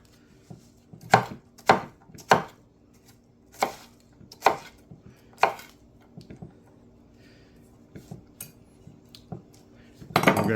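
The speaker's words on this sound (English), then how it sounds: "So I'm just gonna chop this up" A knife chops through an onion on a board in about eight sharp, evenly spaced strokes, loud and close, with a few softer taps between and a louder knock at the end.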